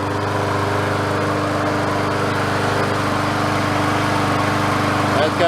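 Yardman push mower engine running steadily and loud throughout, a constant close drone with no pauses after its governor was adjusted.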